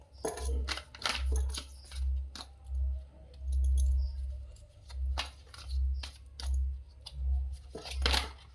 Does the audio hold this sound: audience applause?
no